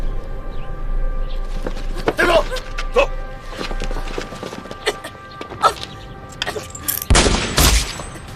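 Gunfire in a police-versus-gangster action film scene: scattered sharp shots early on, then a loud, dense burst near the end, with voices and commotion around it.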